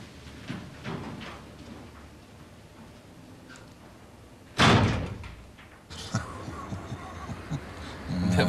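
A door slams shut in a German TV crime drama, a sudden loud bang after several seconds of quiet room noise, followed by lower rumbling and movement.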